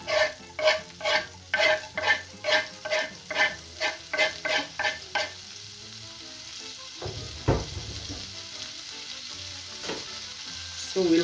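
Garlic frying in margarine in a pan, a rhythmic run of about a dozen stirring scrapes over a steady sizzle, then quieter sizzling with a few occasional stirs.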